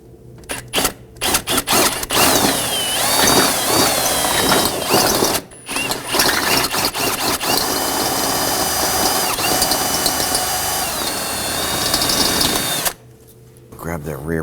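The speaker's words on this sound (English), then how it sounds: "Let's go ahead and drill this one out." A power drill bores out a metal rivet on a Volvo S60 front inner fender liner, running loud and close in sustained whining bursts with brief pauses, then stopping near the end.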